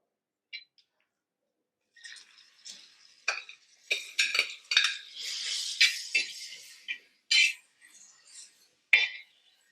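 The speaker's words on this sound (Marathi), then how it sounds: "एक मध्यम आकाराच्या कांद्याचे पातळ काप करून घेतलेले आहेत, आपण ते घालणार आहोत" Thin onion slices go into a pan of roasted cumin, giving soft, fairly quiet bursts of sizzling mixed with clinks and scrapes of a spoon against the pan; a brief voice may be heard.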